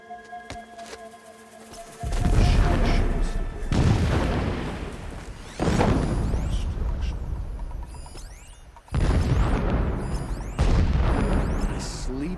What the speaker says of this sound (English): The blasting should cover any noise you make.